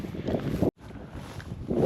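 A pleasant outdoor breeze rushes and buffets steadily against the microphone, briefly cutting out once before the wind noise returns.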